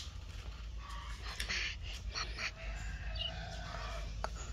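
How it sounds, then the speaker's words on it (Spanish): Chickens and roosters out in the open at a roadside home in Usulután, El Salvador, clucking and calling in short bursts over steady low background noise. "Mira, ahí andan los gallos también."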